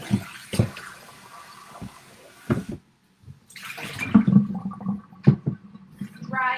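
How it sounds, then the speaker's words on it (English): Running water from a kitchen tap splashes into a mixing bowl as it is rinsed out after making edible play dough, loud and close in irregular gushes with a brief silent gap midway and no speech. "and then I'm gonna rinse my bowl out."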